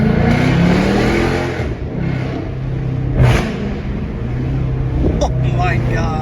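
A deep, throaty 5.7 HEMI V8 engine in a Chrysler 300 rumbles and revs up loudly nearby, with a raspy exhaust note from removed mid mufflers and rear resonators, and a voice talking over it.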